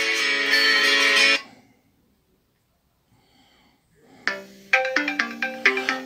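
Ringtone melody on a Nokia 5800 XpressMusic phone, a bright tonal phrase, then a pause with faint noise, then a run of plucked, punchy notes, all close and fairly loud.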